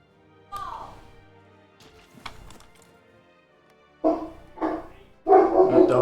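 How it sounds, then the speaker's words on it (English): A dog barks in a few sharp bursts, isolated yips at first and then louder, closer barking toward the end, with quiet stretches between. "There goes the dog again."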